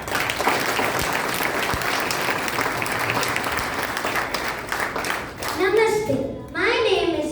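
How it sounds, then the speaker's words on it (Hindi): Hearty audience applause at an Arya Samaj junior Vedic presentation event, dense clapping for several seconds that gives way near the end to a voice speaking. "जोरदार तालियां."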